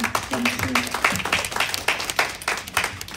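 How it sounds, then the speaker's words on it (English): An audience at a UN parallel event applauds after a speech, dense clapping filling the room at a steady level, with a voice briefly audible over it. "let's give her a big applause again"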